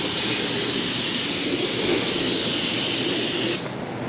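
A paint spray gun coats a transmission valve body with a loud, continuous close-up hiss that cuts off abruptly near the end.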